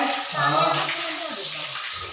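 A small spring stream runs out of a hillside at Kalinjar Fort, giving a close, steady splashing and gurgling of clear water that never lets up.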